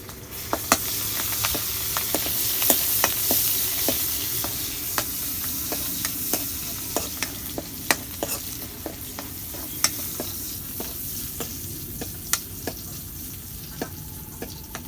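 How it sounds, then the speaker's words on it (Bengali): Onion and garlic fry in mustard oil with a steady, close sizzle, punctuated by sharp clicks and scrapes of a spoon stirring through the pan. "সর্ষের তেল দিয়ে দিব পেঁয়াজ আর রসুন দিয়ে সম্বাদ দিব"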